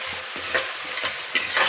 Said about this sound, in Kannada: ಆಲೂಗೆಡ್ಡೆ, ಟೊಮೊಟೊ ಎಲ್ಲನೂ ಒಗ್ಗರಣೆ ಹಾಕಿದ್ದೀನಿ.